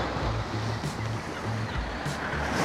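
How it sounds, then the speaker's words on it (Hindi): Sea waves wash steadily against the Isle of Wight shore, a broad continuous roar and hiss with gentle swells, heard alone without voices. "समुंदर की जो आवाज़ है"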